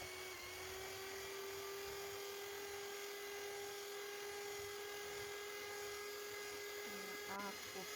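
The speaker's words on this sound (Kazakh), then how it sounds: "Енді ағыны жақсылап миксерлейміз." An electric hand mixer whirs steadily while whipping egg whites, a constant high buzzing drone held at an even pitch throughout, with faint clinks near the end.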